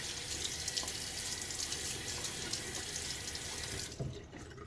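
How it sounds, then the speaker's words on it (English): A bathroom tap runs steadily into a sink as a face is wetted before a shave, a close continuous splashing stream that cuts off near the end, leaving near silence. "Get my face a little wet."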